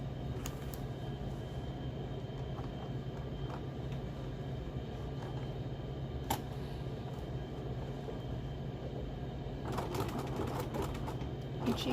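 A sewing machine runs a continuous zigzag stitch through fabric, a steady low mechanical hum and rapid whir close by, with a few sharp clicks and rustles as the material is stretched and guided.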